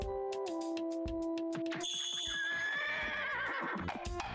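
A horse neighs loudly in a video game, a long shrill whinny rising over steady electronic tones and beeps, with no talk.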